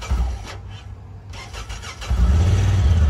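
A Honda Talon side-by-side cranks with a whirring starter for about two seconds, then the engine catches and settles into a loud, rough low idle, close by with no talk.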